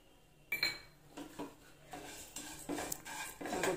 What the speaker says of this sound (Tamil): அந்த அவலை கொட்டிக்கிறோம்.